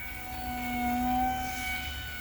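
The ECHO-52 Photon composite RC flying wing cruises overhead at about 40% throttle, its electric motor giving a steady whining hum with tonal lines that swell slightly as it passes.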